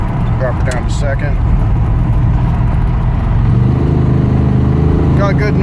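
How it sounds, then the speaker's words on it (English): A 1978 Pontiac Trans Am fitted with Dynomax Super Turbo mufflers pulls along in second gear, its loud, steady low exhaust drone rising slightly in the second half, heard from close by with faint voices underneath. "That is what Dynomax Super Turbos sound like outside the car and in the car."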